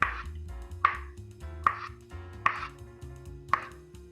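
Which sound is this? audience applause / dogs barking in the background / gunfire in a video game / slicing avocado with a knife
slicing avocado with a knife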